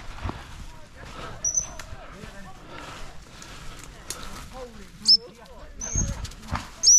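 Gundog out on a beating line during shoot training, with occasional dog sounds and sharp whistle-like calls amid outdoor rustling, while several people talk and laugh nearby.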